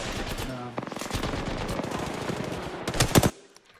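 Rapid automatic gunfire in an Apex Legends firefight, dense bursts of shots running throughout, with a louder cluster of heavy shots near the end before it cuts off; faint talk in the background.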